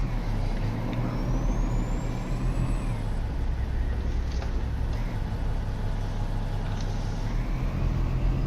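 Parking brake air release on a Peterbilt 389 in Euro Truck Simulator 2, a few short hissing bursts over the steady, loud drone of an idling diesel truck engine.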